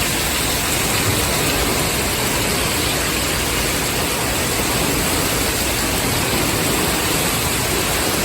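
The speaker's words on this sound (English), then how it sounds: "Look how much water is running off down there." Dense, steady roar of heavy rain and rushing runoff water, loud and unbroken throughout.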